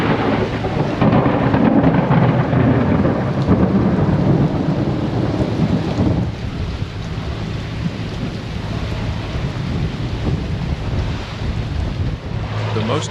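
At night on the Strait of Malacca, a thunderstorm with heavy rain roars over a boat at sea, deep rumbling thunder and wind buffeting the microphone, loudest early and then easing into a steadier hiss of rain.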